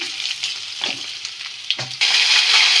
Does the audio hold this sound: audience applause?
no